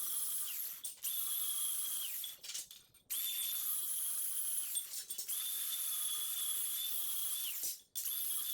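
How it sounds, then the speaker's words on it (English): A grinder bevels the ends of steel shelf pieces, a high, steady whine in several long passes broken by short gaps where the tool lifts off or drops in pitch, close and alone. "I'm going to grind a little bevel on each end to try to give myself some space to fill the"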